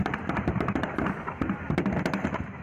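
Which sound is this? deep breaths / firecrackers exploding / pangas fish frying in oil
firecrackers exploding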